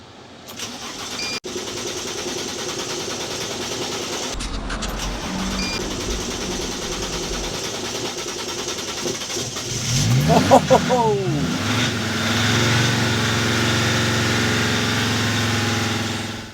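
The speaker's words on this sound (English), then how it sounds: "With the van now able to start back up finally" Diesel engine of a camper van cranking over repeatedly after a long struggle, then catching and settling into a steady idle hum; a voice exclaims briefly during the cranking.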